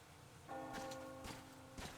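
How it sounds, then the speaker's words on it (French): A bell rings several times in the video game Metro Exodus, sustained metallic tones with clear harmonic overtones beginning about halfway in and struck again twice, fairly faint over a quiet background with no talking. "entendu la cloche?"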